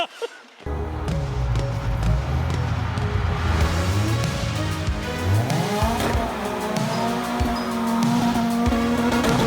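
An electric crazy cart spins on the spot inside a factory, its tires squealing in long, loud, wavering screeches with motor whine, continuous and close.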